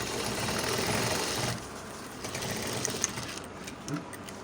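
A sewing machine runs steadily, stitching the lining of a bomber jacket with a dense, even whir, then drops to a softer hum with faint clicks and taps after a second and a half.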